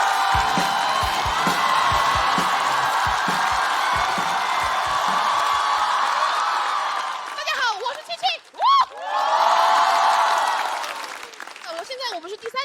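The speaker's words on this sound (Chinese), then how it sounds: "掌声欢迎七七" A stand-up comedy audience applauds and cheers as comedian Qiqi is welcomed on stage, loud dense clapping for several seconds, then whoops and a voice speaking over the fading crowd.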